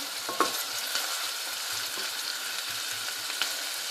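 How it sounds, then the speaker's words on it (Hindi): Onions frying in hot oil in a karahi for white chicken karahi: a steady, close sizzle hisses throughout, with a few soft clicks and spatters and no talking. "और अब तेल गर्म हो गया। मैं इसमें प्याज डालती हूँ।"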